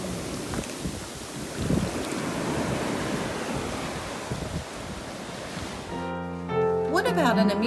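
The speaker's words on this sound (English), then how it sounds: "Or how about at the beach? Can we find music in the waves?" Ocean waves wash onto a beach with a continuous rushing surf and wind buffeting the microphone, then music takes over in the final seconds.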